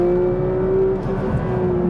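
A Porsche 911 S/T engine holds a steady, strong tone, then the note shifts as it pulls away, loud and close.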